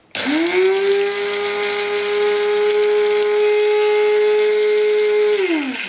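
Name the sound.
Sinbo electric coffee grinder grinding coffee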